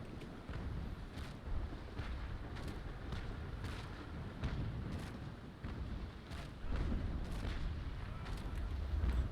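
Ship cannons firing in the Naval Action game during a battle against three elite Bucentaure ships, muffled booms spread across a constant roar of wind and sea, with a louder surge near the end.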